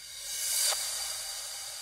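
A stretched, very high-pitched riser effect drenched in ambient reverb swells as a bright airy hiss, peaking briefly before settling into a sustained wash in an electronic complextro/color bass track.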